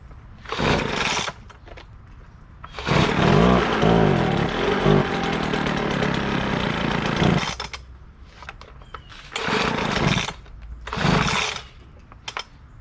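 A Craftsman 25cc gas leaf blower that bogs down revs in loud, close bursts, with a long sustained roar in the middle and several short throttle blips after it.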